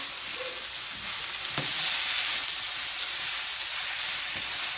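Mushrooms sizzle and fry steadily in grapeseed oil with garlic in a pan, a continuous close hiss with a brief stir or clatter partway through and no talking.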